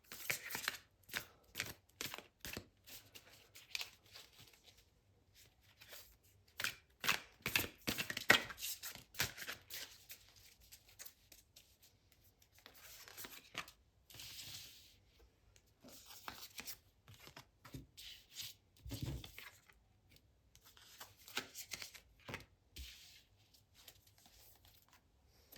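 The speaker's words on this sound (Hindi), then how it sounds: "फिर से कार्ड्स को शफल कर लेते हैं।" Tarot cards are shuffled by hand in repeated soft, papery riffles and flicks, fairly close but quiet, with short pauses between rounds and no talking.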